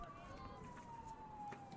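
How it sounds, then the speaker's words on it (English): A distant ambulance siren wails outside a stadium during a girls' high school soccer match, one faint, steady tone slowly gliding downward beneath the ambient crowd and field noise, with faint voices in the background. "we've got sirens outside the stadium. That's an ambulance coming."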